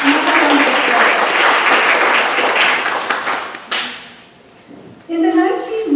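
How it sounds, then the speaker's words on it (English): A symposium audience on the photography of Raghubir Singh breaks into sustained applause, dense and loud for several seconds before fading, then a speaker begins talking. "So please, another round of applause."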